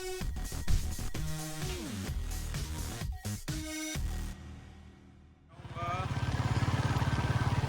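Motorcycle engine running while riding out from Rohtak toward Delhi at the start of a trip to Ladakh, a steady pulsing drone that grows louder in the second half after a stretch of mixed sound with other voices and tones.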